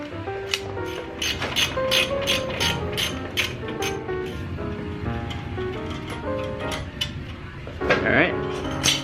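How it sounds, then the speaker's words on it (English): A breaker bar ratchets a castle nut off the bottom of a worn ball joint, making a close run of rapid metallic clicks with short pauses and some clanks of metal against metal. "you can take off the castle nut on the bottom. I'm using a breaker bar."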